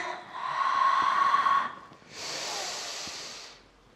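Two long, breathy exhales during a Pilates exercise, close and airy hisses each lasting over a second with a short pause between, and no talking.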